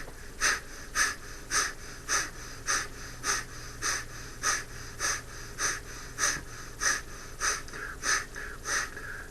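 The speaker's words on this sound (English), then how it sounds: "you try to blow it out. And that is breath of fire." Breath of fire breathing exercise: forceful, rhythmic nasal exhalations repeating about twice per second, close and steady for the whole stretch, with no talking.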